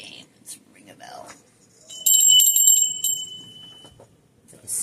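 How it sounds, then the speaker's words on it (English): A small bell rung indoors, a bright, clear ring that rises suddenly and sustains for about a second before fading, with quiet whispery voices and faint noises before and after. "Let's ring a bell."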